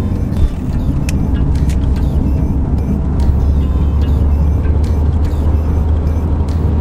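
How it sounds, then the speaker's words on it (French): Heard from inside the cabin of a Porsche 944 with a five-speed gearbox as it is driven, a loud, steady engine and road drone fills the whole stretch, with light mechanical rattles on top. "Pour en revenir à la 944, c'est assez plaisant à conduire quand même."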